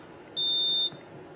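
A Notifier Onyx fire alarm panel keypad gives a single short, clear electronic beep of about half a second, loud against a quiet room hum.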